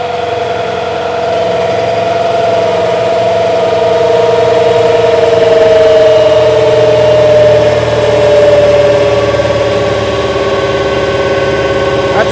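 A New Holland TL-90 turbocharged diesel tractor engine runs under load at a steady, loud drone with a constant whine throughout, and the engine note shifts slightly in pitch.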